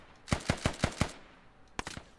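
Gunfire in a war video game: five evenly spaced, punchy shots in quick succession, a short pause, then a tight burst of three more, loud and up front.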